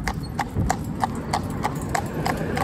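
Horse named Flash walking on a paved town road in traffic, hooves clip-clopping in a steady, even rhythm of sharp near strikes over a low background rumble.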